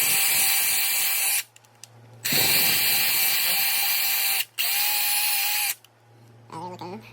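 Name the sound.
wire wheel cleaning threads of a part held in a vise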